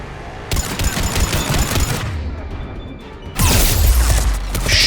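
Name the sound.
Cerberus turret firing in Mass Effect 3 video game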